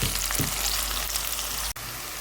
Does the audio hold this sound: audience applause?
no